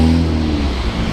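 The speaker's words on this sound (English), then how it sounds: "So I've got to worry about these cars here though." Cars driving past on a busy street in Cairns, a loud close engine whoosh with a low tonal hum that fades slightly over about a second, no talk.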